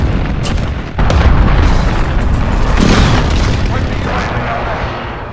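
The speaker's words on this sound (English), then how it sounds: "Allied cruise missile away" Cruise missile explosion in Call of Duty: Modern Warfare, a heavy boom with a sudden onset that rolls into a long, loud rumbling roar, with voices talking over it.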